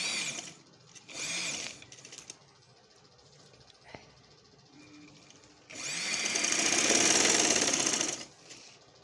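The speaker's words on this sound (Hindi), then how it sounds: "यहाँ से जो है सिलाई इसकी दोबारा शुरू कर देनी है।" A sewing machine stitches dori piping onto a kameez, running in two bursts: a short whirring run near the start and a longer, louder steady run later, with quieter pauses between.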